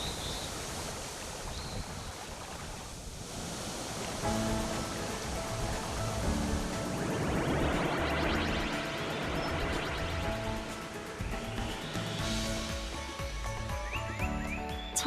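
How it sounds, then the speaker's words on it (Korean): Waterfalls on Mount Kumgang roar as a steady, broad rush of falling water, with music playing over it for most of the stretch. "금강산 폭포를 감상하실 수 있는 영상"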